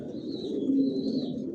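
A female racing pigeon of the Johnson long-distance line, nesting on eggs in a loft, coos in a low steady throaty murmur that runs throughout, close and moderately loud, alone.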